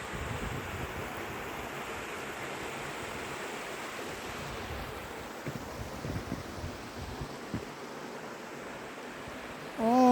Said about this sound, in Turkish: Evet şelalemiz